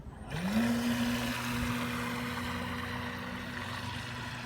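A CAMRAD 800 model fishing boat with a Falcon 5010 motor starts at full throttle: a whining tone quickly rises in pitch, then holds steady and close before gradually fading as the boat pulls away.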